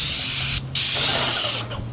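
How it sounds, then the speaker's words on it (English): A paint sprayer hisses out full-coverage stain onto a wood fence in two long, loud bursts with a brief pause between them, over a steady low mechanical hum from the pump. "The full coverage stain in the sprayer is way nice."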